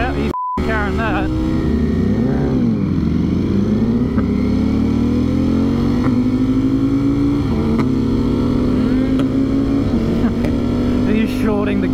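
Ducati Streetfighter V4S motorcycle riding with its engine revving up and dropping through quick gear shifts, a loud continuous roar with brief dips at each shift, heard close with wind rumble.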